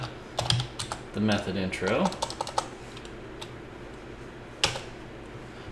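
Keys clatter on a computer keyboard as a command is typed, a quick burst of clicks followed by a few scattered taps and one sharp keystroke near the end, with someone speaking briefly partway through.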